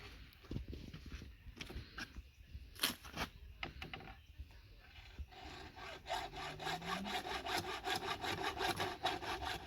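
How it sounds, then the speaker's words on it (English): Hacksaw cutting through PVC pipe at a marked two-foot length for a bank-fishing rod holder, a steady run of close, rasping back-and-forth strokes that becomes faster and more regular in the second half. "Then you just take your hacksaw and just cut it on your little 2 foot mark."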